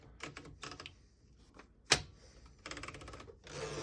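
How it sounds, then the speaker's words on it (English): A 1935 Underwood No. 11 desktop typewriter in excellent condition clatters through bursts of rapid key strikes, with one louder bang from the mechanism midway, close and clear without speech. "we have this 1935 excellent condition Underwood number 11 vintage desktop typewriter"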